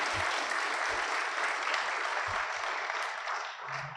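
Sustained applause from an audience at a Pitt County Schools awards ceremony for principals and assistant principals, steady and dense for the whole stretch with brief low thumps underneath.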